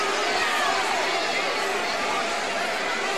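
Concert crowd murmuring and chattering in a large venue just after a show is cancelled, a steady dense babble of many voices filling the space without a break.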